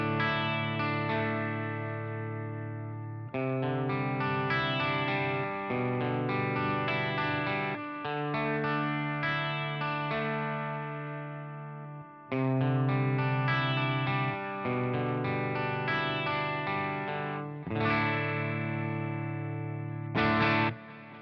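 Clean electric guitar through the clean channel of a Friedman IRX preamp pedal, playing chords and single notes, sustained and ringing with light shimmer and echo, with no one talking.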